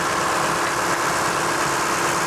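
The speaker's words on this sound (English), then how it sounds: "let's run the engine for a good 10 minutes" Steady, even engine idle from a Lexus GX460 running after a radiator upgrade, a continuous loud drone recorded close with no change in pitch or rhythm.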